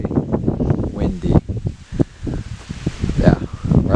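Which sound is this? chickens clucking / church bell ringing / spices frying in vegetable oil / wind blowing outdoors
wind blowing outdoors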